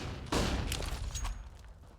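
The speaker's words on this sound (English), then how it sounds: "Deep nade towards the base of Catwalk. Does a little bit of chip damage." Grenade blast in Counter-Strike on the Dust2 map, thrown deep toward the base of Catwalk during a professional match: one sharp, loud boom with a short rumbling tail, followed by fainter scattered pops from the game.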